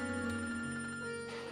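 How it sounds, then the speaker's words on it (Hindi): A telephone rings in a domestic drama scene, with a steady electronic ringing tone over a continuous music bed, loud and close throughout, with no talking. "बाबा का फोन है"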